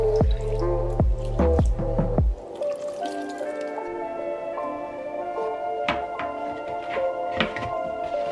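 Water pours and drips onto a houseplant's soil, starting with a few heavy splashy pours, then settling into a close run of trickles and bright droplets falling into wet soil, with no talking.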